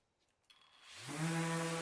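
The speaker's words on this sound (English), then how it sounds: "And then I sanded." Power sander working Baltic birch plywood for a kitchen island, starting up after a half second of quiet and building into a steady, loud, droning whir with a rough rasping edge that holds to the end.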